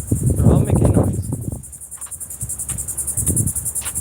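Crickets chirp in a steady, rapid high-pitched pulse throughout, while a person talks briefly at the start and near the end.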